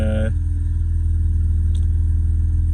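A Mazda RX-8 rotary engine idles while warming up on a cold day, a loud, steady low rumble with an even pulsing beat, after a brief voice right at the start.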